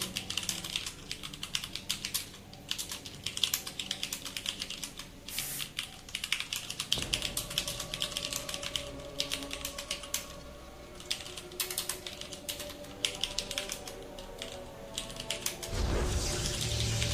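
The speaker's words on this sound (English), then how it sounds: "I was typing here quite a little bit" Continuous fast typing on a computer keyboard, close and distinct, with dense irregular clicks of keys running throughout and no talking.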